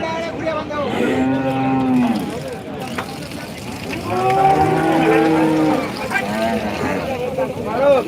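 Cattle moo loudly and repeatedly at a busy rural cattle market, long drawn-out lowing calls rising and falling over crowd noise and chatter.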